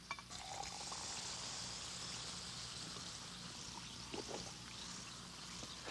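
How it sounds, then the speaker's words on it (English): Tablets fizzing in a glass of water for a Bromo-Seltzer commercial, a soft continuous hiss of bubbles with faint crackles, quiet and close, with no talking. "You see, bromo's in there right now, going to work, while these are still fizzing."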